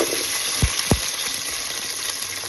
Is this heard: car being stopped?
no